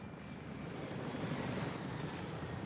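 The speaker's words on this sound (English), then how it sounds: "Helicopter. It already passed. Don't worry. That shit was going fast." A helicopter in the video game Arma 3 sweeps past at speed, a steady broadband rotor and engine roar holding at moderate level throughout, with no talk over it.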